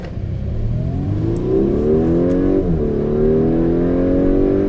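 An Audi A5 Sportback engine revs and pulls under acceleration, a loud close-up drone that rises steadily in pitch, dips briefly at a gear change, then climbs again.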